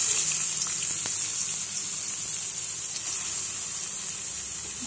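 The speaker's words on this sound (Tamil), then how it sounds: "இதில் நம்ம கொஞ்சம் வெங்காயம் போட்டு வறுத்துக்கலாம்." Onions fry in hot oil for egg rice, giving a steady, bright sizzling hiss that holds at an even level throughout, close and alone.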